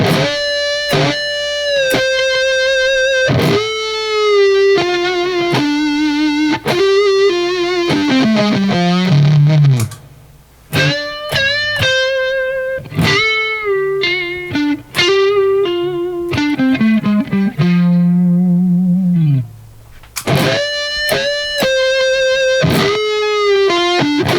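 Distorted electric guitar plays a run of sustained notes and string bends from a solo, with short pauses between phrases.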